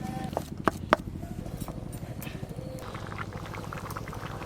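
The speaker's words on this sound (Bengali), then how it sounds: "ঝোল সমেত কাবলি ছোলা একটু ভালো করে ফুটিয়ে নেব" Chickpeas simmer in gravy for chana masala on an earthen clay stove, a soft, steady bubbling with rhythmic plops and a few sharper knocks, close and fairly quiet.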